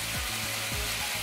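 Butter melts and sizzles in a pan holding chicken, garlic and white wine: a brief, even hiss with a couple of soft scraping strokes underneath.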